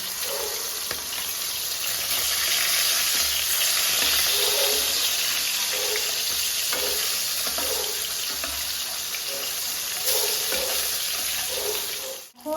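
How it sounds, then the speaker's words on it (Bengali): Pieces of rui fish frying in oil while being flipped, a continuous loud, hissing sizzle with soft scraping and clinks of a spatula recurring throughout. "এক এক করে মাছগুলো ভাজতে দিয়ে দেবো তার এক পেটটা কিছুটা ভাজা হয়ে গেছে চলো মাছগুলোকে একটু উল্টে দিই"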